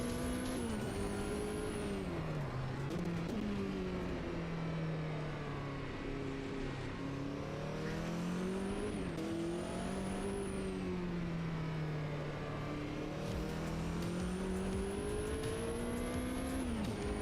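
A race car in the Automobilista 2 racing sim, engine droning steadily close up and rising and falling with throttle and gear changes, alone for the whole stretch.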